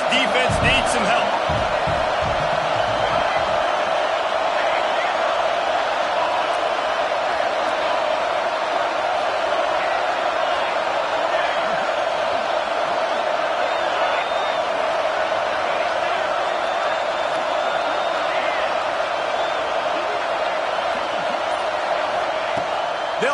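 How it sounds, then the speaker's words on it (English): A stadium crowd at a college football game involving Cal roars steadily, a broad sustained wash of cheering that holds at a constant loud level throughout with no break. "This crowd rising up, sensing that its defense needs some help."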